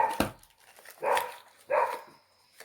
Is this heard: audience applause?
no